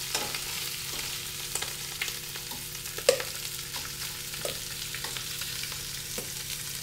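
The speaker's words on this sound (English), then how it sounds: "So we're just getting a nice little crust on each side of the shrimp. Right in the skillet just like that." Shrimp searing in olive oil in a skillet, a steady close sizzle with small crackles and a few sharper pops, no voices.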